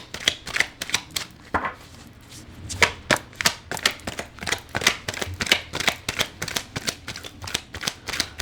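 Playing cards being shuffled and flipped during a tarot-style card reading, a steady run of close, crisp riffling clicks and snaps with no voices.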